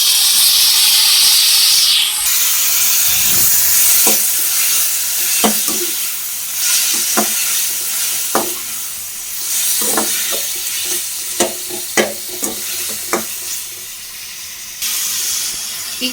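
Tomatoes tossed into a hot pan for tomato gojju, giving a steady loud sizzle and hiss with repeated scraping stirs of a spatula spread through the frying.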